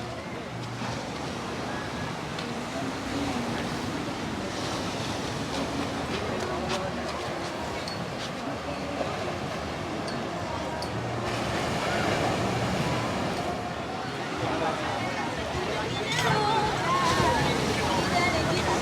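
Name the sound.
waves on a sandy beach in the evening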